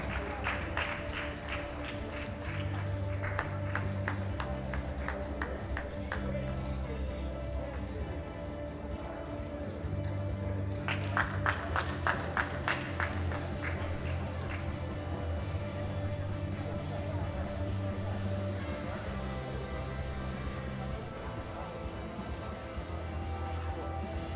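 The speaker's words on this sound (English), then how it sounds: "Round of applause as the gentlemen come onto the platform" Audience at the 2021 World Classic Powerlifting Championships ceremony gives a round of applause as officials step onto the platform; crisp clapping comes in two bursts over a steady hum of background music.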